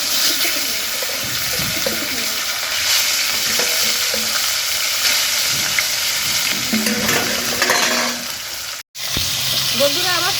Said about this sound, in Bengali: লাল লাল করে ভাজছে, একটু কড়া করে ভাজলে এটা খাইতেও ভালো লাগে